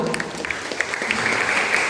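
Audience applause for parents at a church revival service, a dense, steady wash of clapping held at even loudness throughout, with no clear voice on top.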